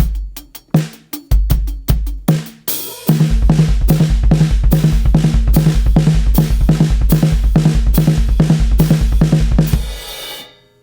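Drum kit groove with a few bars of time, then rapid 32nd-note hand-and-foot patterns with steady hits over the kick, loud and close, ending on a ringing crash.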